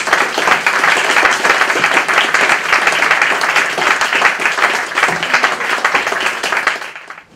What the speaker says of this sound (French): sous les applaudissements nourris de notre public